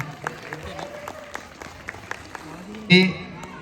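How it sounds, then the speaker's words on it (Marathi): An audience at a village Republic Day celebration claps to welcome guests, a scattered, moderately distant patter of hands under a speaking voice, with one sharper burst near the end. "आपण सर्वांनी टाळ्या वाजवायच्या पाहुण्यांचं स्वागत होत असताना"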